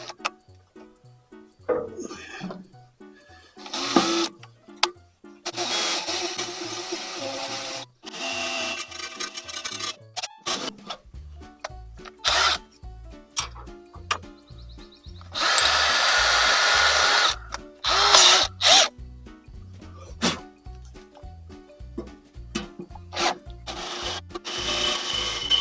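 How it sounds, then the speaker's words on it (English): A power drill bores a pilot hole in repeated bursts, biting into wood with rough grinding and scraping between short pauses. "So I'm going to drill a pilot hole first."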